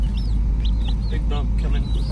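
Fifteen baby Asian chicks peep in a continuous overlapping chorus of high, thin chirps, with a steady low rumble underneath and some voices.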